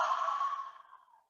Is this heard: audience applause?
no